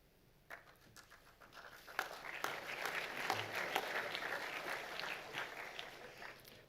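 A school assembly audience applauds, a scattered patter of many hands building from a few early claps into sustained, moderately distant clapping with faint background voices.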